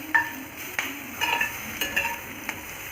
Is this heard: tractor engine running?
no